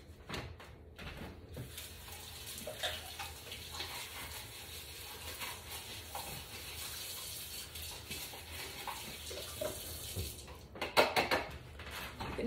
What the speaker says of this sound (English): Just gonna give this pot a rinse.